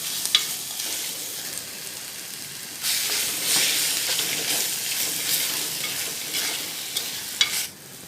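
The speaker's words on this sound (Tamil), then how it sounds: "அதோட சின்ன ஒரு தக்காளியும் சேர்த்து வதக்கிட்டு" Tomato sizzles with ginger-garlic paste in a hot pan, a soft frying hiss that swells midway, punctuated by a few sharp clicks of stirring.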